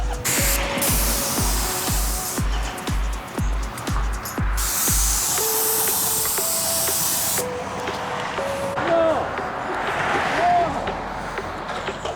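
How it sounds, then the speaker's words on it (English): A Graco Magnum X17 airless paint sprayer sprays house gutters, giving a loud, steady hiss in long bursts, with a rhythmic pump thumping and beeping tones early on, then fading to quieter hissing. "Spraying some gutters right now."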